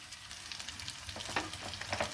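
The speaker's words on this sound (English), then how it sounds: "Here again I am heating some sunflower oil, and let me add the noodles." Noodles frying in hot sunflower oil, a continuous close sizzle with soft stirring scrapes and a few brighter clicks of a spatula toward the end.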